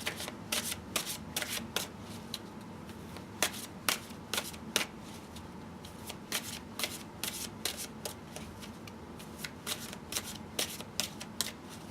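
A Chrysalis Tarot card deck is shuffled by hand, producing repeated brisk riffling bursts in irregular clusters, close and clear with no talking.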